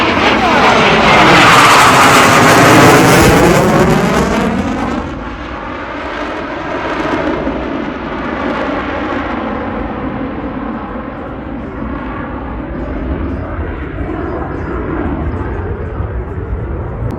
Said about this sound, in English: I present you the 2024 Captain Robert, Tango, and the Canadian Forces CF-18 Hornet.